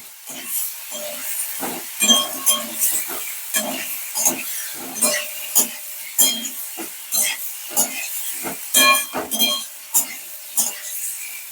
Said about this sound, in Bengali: সেদ্ধ করা আলু ভালোভাবে কষিয়ে নিচ্ছি আলু সমেত